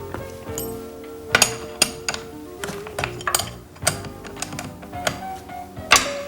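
An end wrench breaks loose the banjo bolts on a car's fuel filter during an engine tune-up, giving sharp metallic clinks and ticks in an irregular, close-up series with light scraping between them.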